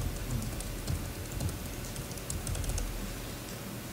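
Rapid typing on a computer keyboard during a conference talk, a busy clatter of soft key clicks heard close over a steady background hiss, with no voices.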